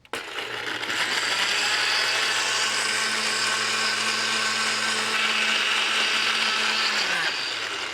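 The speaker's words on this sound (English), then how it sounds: "Puree these ingredients in a blender." A blender purees Scotch bonnet seasoning ingredients with lime juice and water in one loud, steady whir that runs for several seconds, then winds down near the end.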